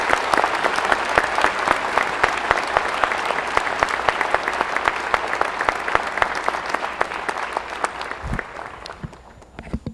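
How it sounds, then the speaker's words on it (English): A university economics commencement audience gives the graduates' parents a big round of applause: many hands clapping in a thick, even patter that holds steady, then thins and fades toward the end. "Let's give the parents a big round of applause."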